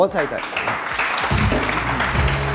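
TV studio audience breaking into applause on a morning show, a brief burst of clapping rising after a short spoken moment and continuing steadily to the end.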